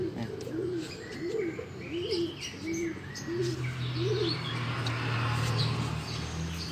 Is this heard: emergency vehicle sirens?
no